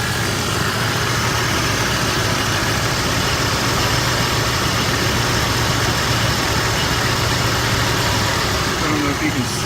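A car engine idles with a steady, low, rough rumble and a vibrating shake. The sound is close and continuous, and a person can be heard talking over it.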